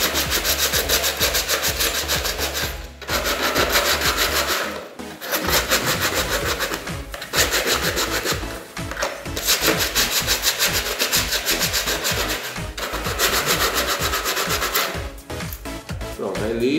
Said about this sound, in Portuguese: Lixar. Ó, lixa dessa grossa.